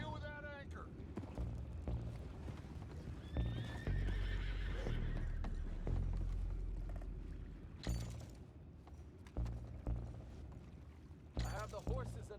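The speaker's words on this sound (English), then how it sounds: "I have the horses under control." Horses in Red Dead Redemption 2 whinny and neigh while hooves clip-clop, fairly close, mixed with creaking mechanical sounds and voices speaking throughout.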